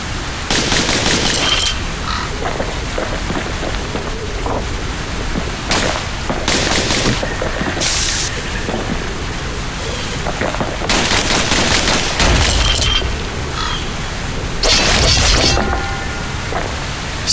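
Dual slinger pistols firing in the Bastion video game, rapid bursts of sharp shots and impacts over a dense, loud game soundscape, recurring in clusters throughout.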